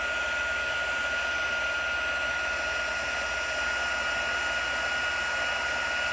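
A heat tool melts embossing powder for a homemade glitter paste, blowing a constant, steady hot-air whine from start to finish with no pauses.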